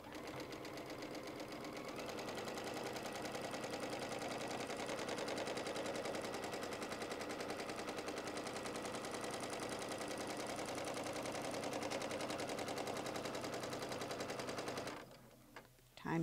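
A sewing machine quilts flying geese blocks with a rapid, steady needle chatter that runs close and continuous for most of the time, then stops abruptly near the end.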